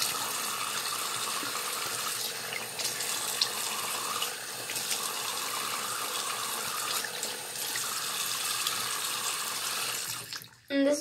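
A bathroom tap runs steadily into a sink for washing the face, a continuous close hiss of flowing water with slight changes as hands dip into it, then an abrupt stop and a brief splash at the end.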